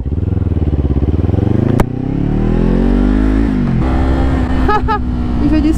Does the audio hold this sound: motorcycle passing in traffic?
yes